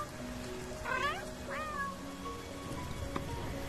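A cat meows twice close by, a pair of short rising-and-falling calls over a faint background.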